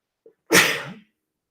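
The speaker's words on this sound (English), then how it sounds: "do you get the sneezes" A single sharp human sneeze bursts out close to the microphone, preceded by a tiny intake of breath, then silence.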